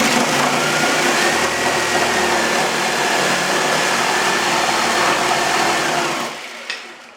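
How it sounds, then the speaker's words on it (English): A jigsaw cutting at full speed, loud and close, a dense buzzing whine held for about six seconds before the motor winds down and stops, with a small clunk at the end. "you're cutting something with your jigsaw"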